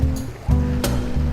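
Choppy bay water broken up by strong onshore wind slaps and washes near a dock at Pensacola, a loud close churn with rhythmic low splashes and wind rumble throughout.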